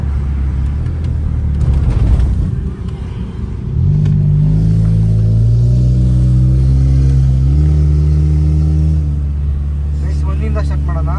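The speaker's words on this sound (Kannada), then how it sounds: "ಈಗ ಸ್ಪೋರ್ಟ್ಸ್ ಮೋಡ್ ಹಾಕಿದ್ದೀವಿ ಗಾಡಿನ" A car in sports mode rumbles and revs up through rising gears, with loud engine drone filling the cabin from inside, continuous throughout.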